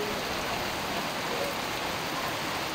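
Heavy rain pours down steadily as a dense, unbroken roar in Calamba, Laguna, near Central 2 Elementary School, loud and constant throughout.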